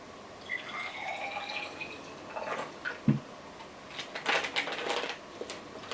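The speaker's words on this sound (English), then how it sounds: "we're going to add 10 milliliters of water" Ten milliliters of water poured into a small plastic bag of leaves, a short run of drips and splashes with crinkling plastic, close and fairly faint, no talking.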